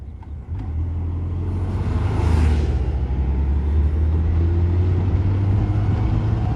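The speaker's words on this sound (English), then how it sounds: "making our way through heavy traffic" Heavy road traffic along a race route climbing over Mount Hope, Belize, with a steady close engine drone and low rumble from a car or truck, swelling slightly midway and holding steady throughout.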